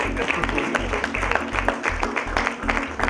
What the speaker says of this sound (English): Special round of applause for Priyadarshini.